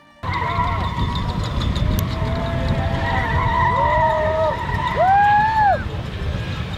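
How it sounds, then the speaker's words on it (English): Hyundai electric car doing donuts at Goodwood Festival of Speed, rising and falling tyre squeals sweeping over a broad crowd and vehicle rumble, with people talking nearby. "the test drivers was doing donuts with this EV, this Hyundai EV"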